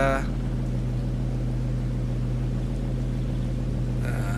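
A car engine from a beta build mod of a video game idles in a steady, low, droning hum that holds constant throughout, with faint broadband hiss and a brief brighter burst at the start and end.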